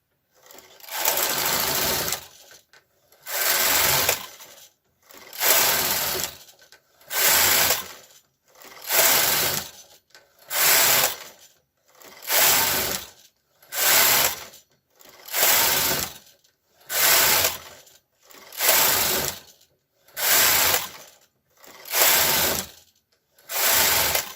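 A domestic knitting machine carriage runs back and forth knitting rows on a men's size 36 sweater front, a steady series of about a dozen rhythmic whirring mechanical passes with brief pauses between, close and clear with no talk.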